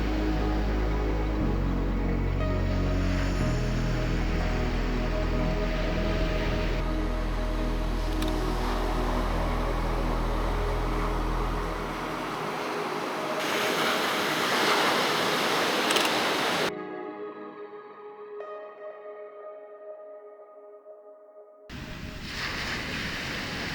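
Sea waves wash onto a beach where fishermen stand and wind turbines rise nearby, making a continuous roar of surf and wind that cuts out briefly before returning.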